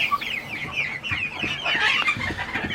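A flock of chickens on a farm clucks steadily, with overlapping chatter from several birds close by and scattered soft thuds and rustling beneath, with no talking.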